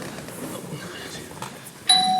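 A doorbell chimes once near the end of a stage play scene, a bright ringing tone cutting in after a stretch of quiet background murmur from the room.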